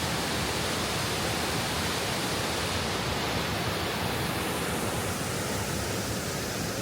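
A waterfall beside a gravel trail pours in a steady, dense rush of white water, loud and unbroken, with no voices.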